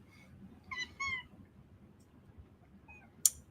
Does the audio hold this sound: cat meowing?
yes